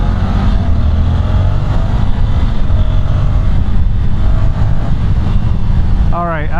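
Ducati Scrambler 1100 Pro with an air-cooled 1100 engine accelerating hard as the throttle opens, a loud steady engine roar mixed with heavy wind rush throughout, with a brief rising whine near the end.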